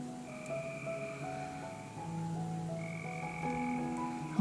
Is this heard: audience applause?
no